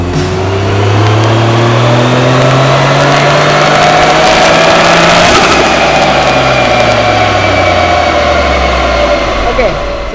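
A car engine revs hard on a dyno during a performance test of engine oil, a loud, near roar sweeping up in pitch and then winding back down.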